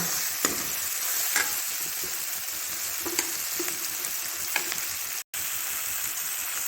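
Masala for macaroni frying steadily in a pan, a continuous bright sizzle with faint scraping of a spoon now and then, close and even throughout.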